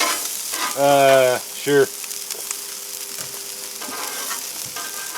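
Sausage patties frying on a Blackstone griddle, a constant hiss and sizzle running underneath while someone briefly speaks and a whistle-like tone sounds.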